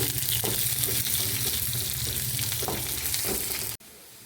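Mustard seeds, curry leaves and onion hiss and sizzle in hot oil in a pan, a loud, steady, close frying crackle that ends abruptly.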